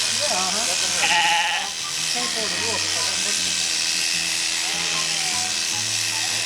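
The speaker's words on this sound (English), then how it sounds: "Okay, Bert, grab the shears and let's see how you do." A sheep bleats repeatedly over the steady buzz of electric shears during shearing on a television studio stage, while people talk nearby.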